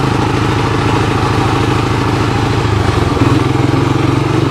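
A 1985 Honda TRX250 utility ATV engine runs steadily and close, a throbbing mid-pitched putter that shifts and picks up slightly near the end as it moves up a gear.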